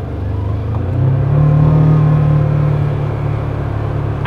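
A car engine held at high revs in high gear drones loudly and steadily up close, a sustained rumbling tone that rises slightly then holds, with no talk over it.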